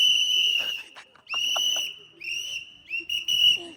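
A shrill whistle blown in long sustained blasts and shorter bursts during a dindi foot procession, loud and close, with faint voices underneath.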